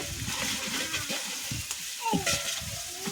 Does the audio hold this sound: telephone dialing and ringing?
no